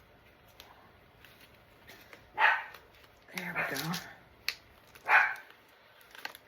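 A small Pomeranian dog barks indoors in a few sharp, separate yaps, with a short flurry in the middle, while a person speaks briefly between the barks.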